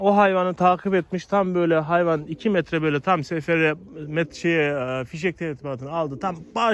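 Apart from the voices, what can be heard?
No everyday noise stands out behind the speech.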